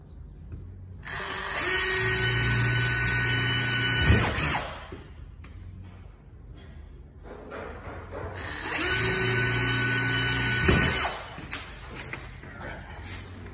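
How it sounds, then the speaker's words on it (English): A power drill with a 1/8-inch bit whines steadily for a few seconds pre-drilling holes in a greenhouse screen door, stops, then runs again in a second burst, close and loud. "Now with our 1/8 bit, we're gonna pre-drill holes, 2 holes in here."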